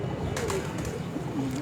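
Pigeons coo on a Multan rooftop, soft low throaty calls repeating a few times, close by over a steady background murmur.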